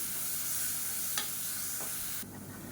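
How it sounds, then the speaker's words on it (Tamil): Ginger garlic paste sautés in a pan with a continuous soft sizzle, broken by a couple of brief scrapes of a spoon, close and moderately quiet, before the sound drops slightly near the end. "இஞ்சி பூண்டு பேஸ்ட் நல்லா வதங்கிடுச்சு."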